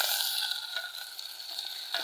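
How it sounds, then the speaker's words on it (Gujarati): Onion frying in hot cooking oil in a pot on a farm, a steady bright crackling sizzle, close and continuous with small pops, no talking. "અમે તેલ પકાવીને મેં ડુંગળી અંદર નાખી દીધી છે"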